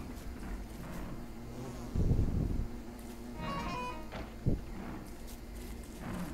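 Bees buzzing in the survival video game Don't Starve, a steady low insect drone running throughout under constant game ambience, with a brief louder thump in the middle and another soft knock near the end.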